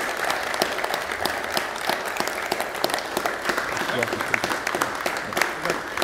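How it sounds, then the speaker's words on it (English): A round of applause at a county press conference with the governor, honoring grant writers: a moderate room of hands clapping in a quick, scattered patter, with some murmured voices beneath. "They do deserve a tremendous round of applause."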